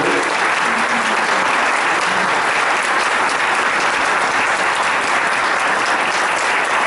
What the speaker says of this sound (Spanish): le pido un aplauso acá a los